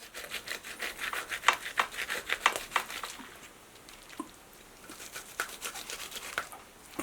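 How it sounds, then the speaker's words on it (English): A knife slicing into air-fried turkey breast, giving a string of close, soft rubbing and squishing strokes that come thick at first, then thin out into scattered light scrapes. "Now let's cut into the breast and see if it's juicy or dry."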